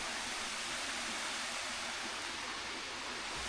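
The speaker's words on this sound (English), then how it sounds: "So we come across this little waterfall. Look at that." A small waterfall in a European rainforest gives a steady, dense rush of falling water, even and continuous throughout with no voices.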